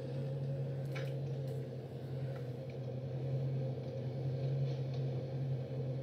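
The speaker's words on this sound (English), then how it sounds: "You can hear that V8." Steady low idle of a Ford Mustang GT V8 pulled over at a roadside during a police chase stop, a constant deep hum with faint background noise and no talk.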